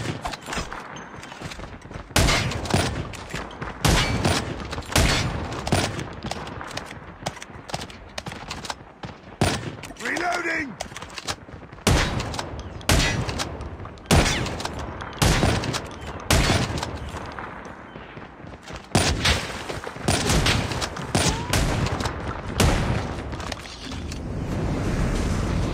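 Rapid gunfire from the mobile shooter game Call of Duty Mobile in a team deathmatch, with dense bursts of automatic fire and single shots repeating loudly throughout, broken by only brief lulls.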